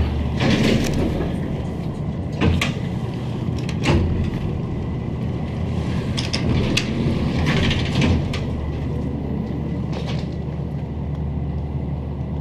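Vintage Otis traction elevator in an office building, running smoothly with a steady mechanical hum and rumble, broken by scattered clunks and rattles from the car and doors, fairly loud and close, with no talk.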